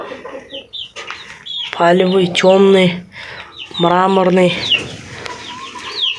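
A broody hen with her chicks clucks and gives two long, loud, drawn-out calls, with short chirps and clucks in between, while a person talks nearby.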